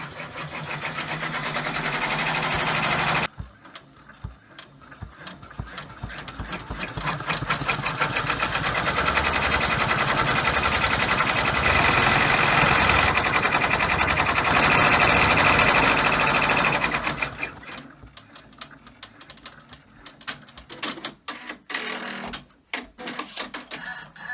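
An embroidery machine stitching an in-the-hoop key fob design, a loud steady mechanical whir and rapid needle chatter running for several seconds after a short start, then stopping into intermittent clicks and handling noises.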